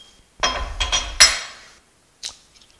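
Small screws being removed from the bottom of a woodturning negative rake scraper: a few close metallic clinks and taps in quick succession, then a single faint click after a short pause.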